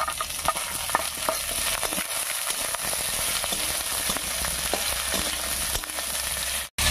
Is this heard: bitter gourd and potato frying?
yes